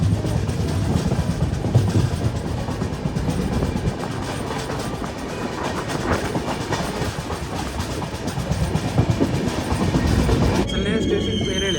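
A train rolls along tracks near Nagpur, with a loud continuous rumble and rhythmic clickety-clack of wheels over rail joints, sustained throughout with occasional squeals, heard from close by.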